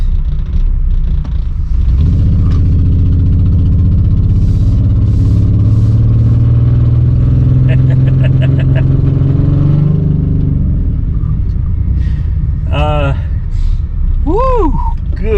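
An all-wheel-drive car with kidney grilles, running rich with a smell of raw fuel, pulls away and drives, its engine rumble rising steadily under ongoing talk before easing off.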